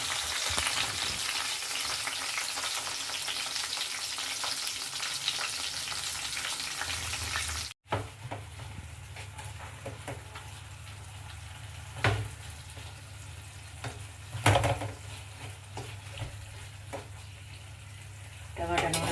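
Onions cook in a pan for a tomato chutney, a loud steady frying hiss that drops away abruptly, then a quieter sizzle with occasional stirring clatters and a voice speaking.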